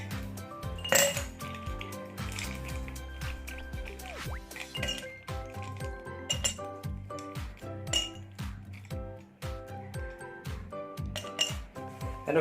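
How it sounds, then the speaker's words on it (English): Ice cubes dropping and clinking into a glass while making Dalgona coffee, a busy run of bright chinks and rattles continuing steadily throughout, close and fairly loud, with no talking. "In a glass, kindly put ice cubes,"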